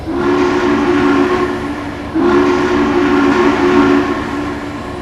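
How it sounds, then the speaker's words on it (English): Two long, loud steam whistle blasts, one after the other, from Norfolk & Western 611, a steam locomotive, over the rumble of the passenger train starting to move. "611 gives 2 blasts on the whistle and gets the train underway"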